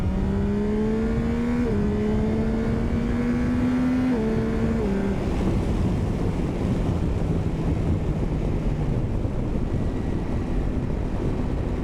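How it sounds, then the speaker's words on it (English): Motorcycle engine revving hard while quick-shifting up through the gears, pitch climbing and dropping abruptly at each shift under steady wind noise, close and loud. "The quick shifter on this thing is so crispy."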